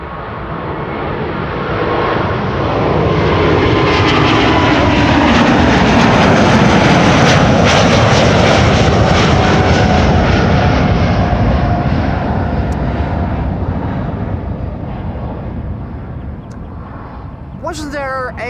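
A jet airliner takes off from runway 18 Left at Amsterdam Schiphol Airport, its engine roar swelling to a loud, broad sustained rumble that slowly fades away, with a brief other sound at the very end.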